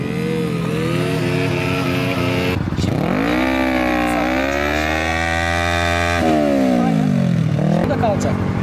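A motorcycle engine revs unevenly as a learner rider eases on the throttle, pitch climbing and sagging in steady surges. It stays close and loud throughout, with an instructor talking over it.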